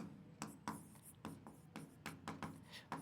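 Chalk or marker writing on a board during a coordinate geometry lesson, heard as a series of short, close scratchy strokes in an irregular rhythm, quiet and with no talking.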